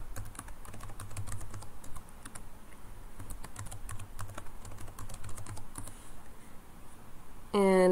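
Fingers type a password on a computer keyboard in a rapid, uneven run of close, crisp key clicks over a low steady hum, ending with a brief tonal sound.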